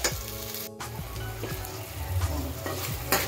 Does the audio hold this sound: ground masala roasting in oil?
yes